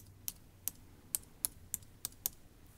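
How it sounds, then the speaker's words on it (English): Seven crisp, separate keystrokes on a computer keyboard, irregularly spaced over a quiet room hum, close and fairly soft, with no voice. "Type in your words."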